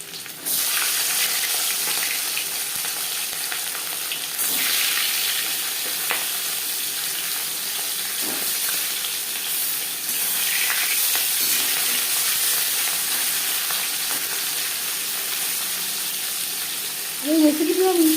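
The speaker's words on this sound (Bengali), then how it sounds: "মাছ ভাজবার জন্য 4 চামচ রিফাইন্ড অয়েল গরম করে নিয়েছি। এবার দিয়ে দেবো ম্যারিনেট করে রাখা" Marinated catla fish sizzles steadily in hot refined oil, a loud, continuous frying hiss running without a break, with brief clatters of stirring near the end.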